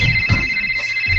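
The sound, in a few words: telephone ringing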